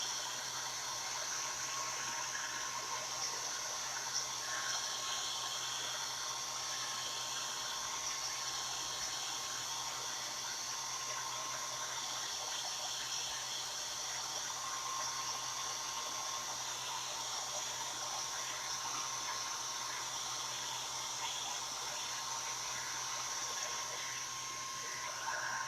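Hair dryer blowing steadily on chalk-painted artwork to dry it, a continuous airy whoosh with a constant motor tone at moderate, even level throughout, no talking.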